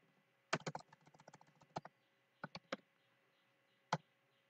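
Keys on a computer keyboard clatter in a quick burst of close taps, then a few separate clicks after short pauses, with no talking.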